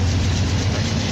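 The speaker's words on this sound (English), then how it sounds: "So we'll wait for the train to come back round" A train in a Minecraft mod runs past with a loud, continuous rumble and rattle, a dense low engine roar that stays steady throughout with no talking.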